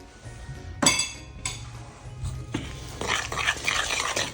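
A spoon stirs vanilla into creamy butter cookie dough for snowball cookies, giving scattered clinks and scrapes against the mixing bowl, with a few sharper knocks and a busier stretch of clatter toward the end.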